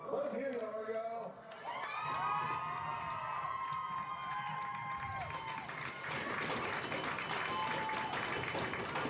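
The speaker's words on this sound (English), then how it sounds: "Crowd gets excited." A crowd at a youth football game cheers and shouts as the play starts, with high children's voices and a few whistles rising into a loud, sustained roar that holds for several seconds.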